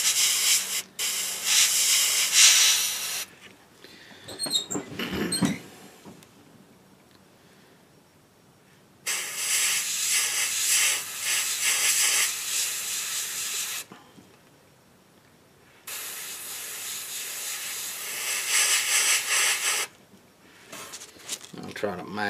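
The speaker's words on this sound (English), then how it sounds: "I kind of spray on the card and then just let the lines, the paint, overspray" Spray paint hisses from an aerosol can onto a homemade stencil card for crafting, coming in several long bursts of a few seconds each separated by quiet gaps, with a rattle and handling noises between.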